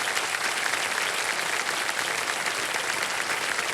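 A television quiz show studio audience claps loudly and continuously, a dense, even wash of applause from many hands with no pauses.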